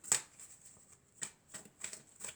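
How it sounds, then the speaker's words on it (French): Oracle cards are shuffled and drawn one by one. A few quiet, crisp card flicks and slaps come at irregular intervals close to the listener, with no talk between them. "je vais tirer quelques cartes"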